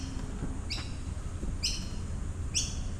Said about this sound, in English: That is a huge bird.